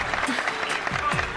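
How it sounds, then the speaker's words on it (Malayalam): Audience clapping fills a short burst, a dense steady patter of many hands with some talk mixed faintly underneath. "കൈയടിക്കുന്നു."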